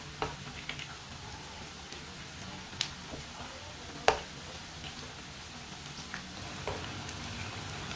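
Spinach and onion pakoras fry in hot oil on their second side, giving a steady close sizzle broken by a few sharp pops and crackles, with no one speaking.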